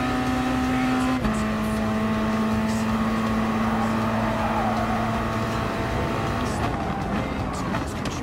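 A race car engine in the Gran Turismo Sport video game drones steadily at near-constant revs, its pitch dropping slightly about a second in and then holding through a racing stretch.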